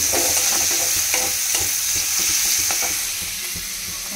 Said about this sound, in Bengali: এখানে পেঁয়াজ ভাজতে দিয়ে দিয়েছি